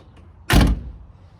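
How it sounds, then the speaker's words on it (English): A door on a 1967 Toyota Land Cruiser FJ45 crew cab shuts once with a single loud, sharp thump. The hit is close and brief, with quiet before and after it. "Doors open and close really easily."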